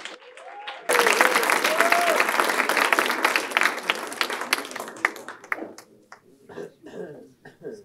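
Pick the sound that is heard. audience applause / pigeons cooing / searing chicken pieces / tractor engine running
audience applause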